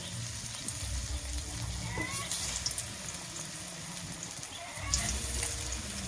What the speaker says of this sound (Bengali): এরপর আমি বড়াগুলো ভেজে দিয়ে দেবো তেলে।